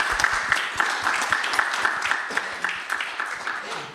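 An audience applauds at a live panel event, a brief burst of clapping from many hands that begins strong and gradually thins out over a few seconds.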